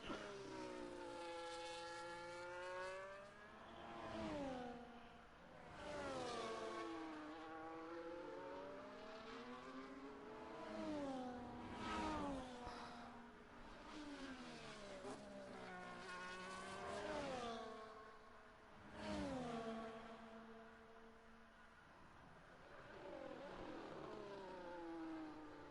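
A Red Bull race car in a sim racing game at Bahrain, with engine notes rising and falling in repeated sweeps as it accelerates through the gears and brakes for corners over a hot lap. The sound is loud and continuous, with no talk over it.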